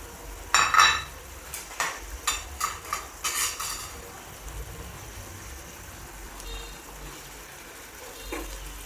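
A metal lid clatters onto a cooking pot of country koi fish curry in a home kitchen, a cluster of sharp clinks and knocks early on, then quiet simmering with a faint later clink.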